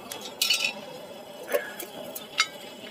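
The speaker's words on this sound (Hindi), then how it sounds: "मैं इसके ऊपर कुकर रख लेता हूँ भाई" A metal pressure cooker is set down on a homemade used-oil stove, giving a few sharp metallic clinks and taps spread over a few seconds against a quiet background.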